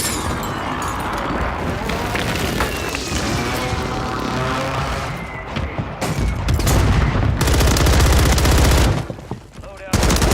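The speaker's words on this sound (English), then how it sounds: "Hostile mortar strike." Mortar strike explosions and rapid gunfire in a military shooter video game, a dense continuous barrage of bursts and booms with heavier impacts toward the end, while radio-style voices speak over the action.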